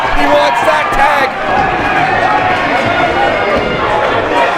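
Crowd at a Superkick'd wrestling show in Brooklyn cheering during a match, a dense, steady roar of many voices filling the space without pause at a loud level.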